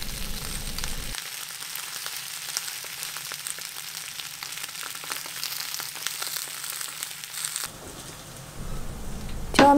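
Fried tofu (atsuage) sizzles in a pan, a steady hiss and crackle of frying that runs throughout, briefly interrupted by a quieter stretch before louder clatter at the end.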